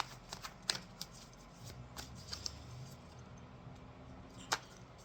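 Tarot cards are drawn and shuffled close up, with soft papery riffles and several sharp snaps and flicks scattered through an otherwise quiet room.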